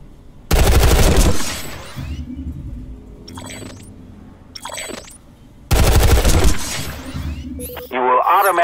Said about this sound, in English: Try shooting some targets while aiming down sights.